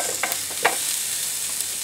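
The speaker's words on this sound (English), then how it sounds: "Get the sizzle going, and we're going to saute them until they become nice and brown" Onions sizzle steadily in an oiled sauté pan, a continuous close frying hiss broken by a few soft stirring scrapes.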